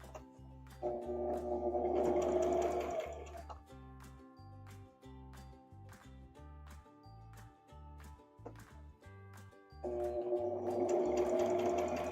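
A sewing machine stitches in two loud, steady bursts, one near the start and one near the end, with quieter stop-and-start machine running and handling sounds in between.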